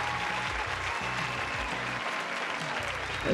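Audience applause ringing out at a staged show as a supporting cast is introduced, a dense, steady clapping that fills the moment and swells slightly at the end.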